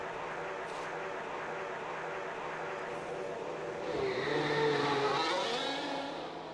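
A McLaren Formula 1 car in F1 Manager 2022 pulls out onto the Jeddah circuit, its engine droning steadily and then swelling into a louder rising whine as it accelerates away.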